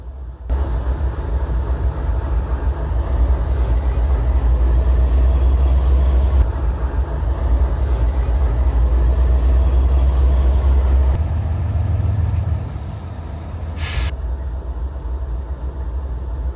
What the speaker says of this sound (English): Hey, that sounds like an engine in trouble.